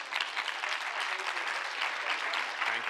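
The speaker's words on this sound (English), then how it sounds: "Another round of applause." A presentation audience breaks into steady applause, dense continuous clapping filling the room at a fairly loud, even level from start to finish.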